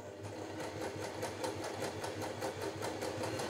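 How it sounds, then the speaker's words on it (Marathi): An Usha automatic electric sewing machine stitches steadily, giving a fast, even, rhythmic mechanical chatter at close range, heard alone and moderately quiet. "आता सी वर शिलाई बघूया आपण।"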